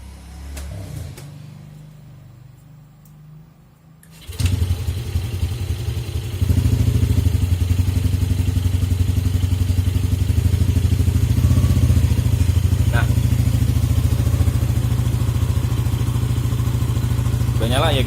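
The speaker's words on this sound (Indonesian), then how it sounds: "Udah nyala ya guys motornya dan kondisinya normal." Motorcycle engine starting up after an idle speed control (ISC) repair, following a quiet stretch, then settling into a steady, loud, even idle rumble close to the microphone with faint clatter on top.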